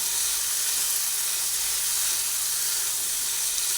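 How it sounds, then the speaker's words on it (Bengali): Eggplant frying together with onion, garlic and ginger in fish oil gives a steady, close, even sizzle and hiss with no talking. "বেগুনের সঙ্গে একসঙ্গে মাছের তেল পেঁয়াজ রসুন আদা সব একসঙ্গে ভেজে নিচ্ছি"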